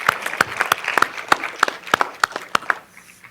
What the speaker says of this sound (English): let's just clap our hands for her